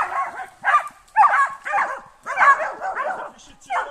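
Hunting dogs bay and yelp repeatedly outdoors during a hunt, in a string of excited, whimpering barks at close to mid range that overlap and come in uneven bursts.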